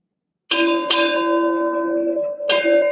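A ship's bell rings out four times in two quick pairs during a Navy change-of-command ceremony. Each loud, clear clang hangs in the air before the next.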